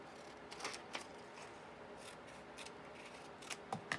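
Scissors snipping paper for a collage, several crisp close cuts at irregular intervals with faint rustling between, quiet and without talk.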